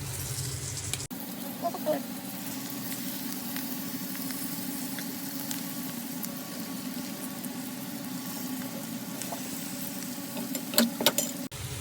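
Curry leaves, ginger garlic paste and turmeric fry gently over low heat in a pan, giving a steady soft sizzle that runs throughout, with a few faint stirring clicks near the end.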